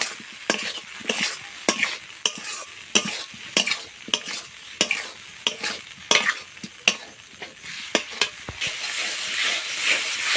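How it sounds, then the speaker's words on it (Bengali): Fried potatoes are stirred with spice paste in a hot pan, with steady sizzling and a brisk, uneven rhythm of spatula scrapes and taps against the metal, close and fairly loud throughout. "এখন ভেজে রাখা আলু দিয়ে দেব। আলুর সঙ্গে মশলাটা 2-1 মিনিটের জন্য আমি নেড়ে নেব।"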